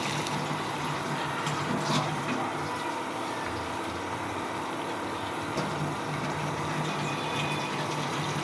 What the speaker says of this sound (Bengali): এই পর্যায়ে আমি সামান্য করে পানি দিয়ে দিব।